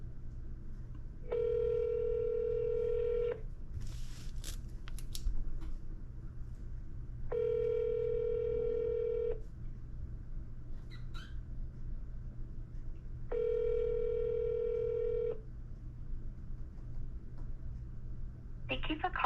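Outgoing phone call ringing back over a steady line hum: three long, even rings of about two seconds each, spaced with regular pauses, clear and moderately loud with no talk.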